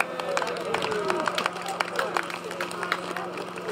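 Outdoor rally crowd on Skye clapping in a loose, uneven patter of individual hand claps, moderately close, with people talking and murmuring over it.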